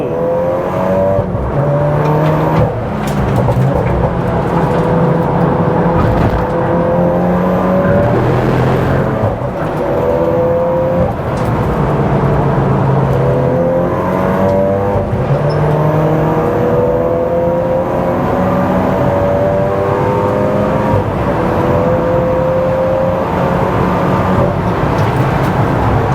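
A modified MK7 VW Golf R race car on a circuit, approaching Paddock Hill corner under heavy braking. Its engine drones loud and close, rising and falling continuously with no one speaking.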